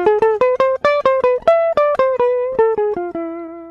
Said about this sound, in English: If I took those microtones out, it would sound like this.